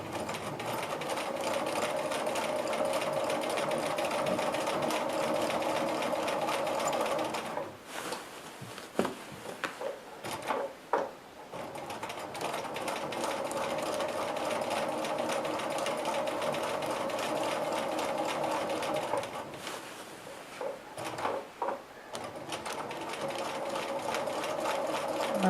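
A sewing machine quilts over pieced one-inch patchwork with a concave foot, whirring steadily and close, pausing twice for a few seconds before resuming its rapid stitching.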